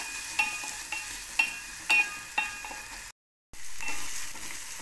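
Finely chopped onion with salt frying in a pan: a steady sizzle under four rhythmic spatula taps against the pan, then a brief cut to silence before the frying resumes, close up, with no voices.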